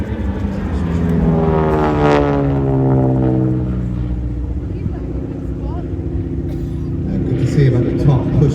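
A Harvard propeller training aircraft performs at an air show in Ayr, its engine drone rising and falling in pitch as it passes, loud and fairly near, with a commentator talking over it throughout.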